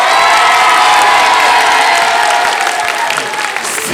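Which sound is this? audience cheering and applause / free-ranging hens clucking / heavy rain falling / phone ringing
audience cheering and applause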